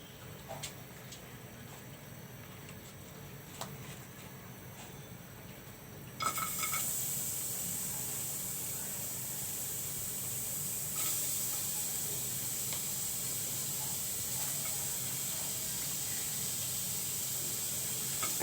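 Onions drop into hot mustard oil in a kadai and a loud, steady sizzle erupts suddenly after quiet clicking, then hisses on continuously at an even level.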